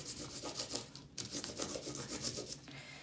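A crayon rubbed back and forth over a textured surface for a texture rubbing, close, quiet rhythmic rasping strokes with a short pause midway.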